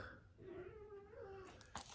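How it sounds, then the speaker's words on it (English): A house cat meows in a drawn-out, wavering call near the middle, close to the listener, followed by a few short rustling knocks. "don't mind my cat meowing because he wants to be a pest"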